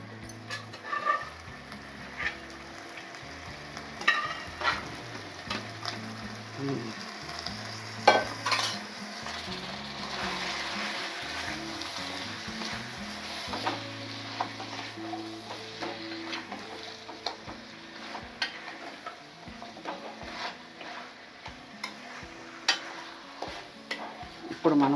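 Mutton pieces fry in masala in a pot with a low, steady sizzle, while frequent stirring scrapes and metal clinks of spoon against pan come through, with low tonal background sounds and no talk.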